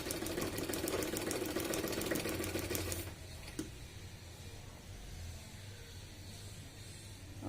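A sewing machine stitches the neck of a blouse, a rapid even mechanical whir for about three seconds, then stopping to a quiet hum with a single click.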